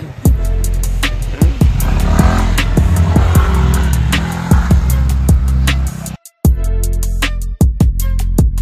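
Motorcycle engines idle and rev at a bike stand on Trikut mountain, a loud, close, throbbing rumble with sharp bursts of acceleration and one brief cut-out.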